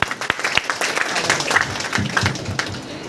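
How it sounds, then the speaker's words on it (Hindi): An audience at a freshers' party seminar bursts into loud applause welcoming a speaker to the stage, sharp individual claps standing out over a steady clatter, with a voice faintly underneath. "मैं बड़े प्यार से सम्मान से एक जोरदार ताली के साथ स्वागत करना चाहूँगा"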